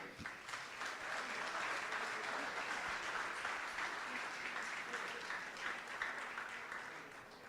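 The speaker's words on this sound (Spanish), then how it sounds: "Denle un aplauso a Él" A church congregation claps steadily and loudly through an evangelical Spanish-language service, a dense, sustained wash of hand claps close to the microphone with no pauses.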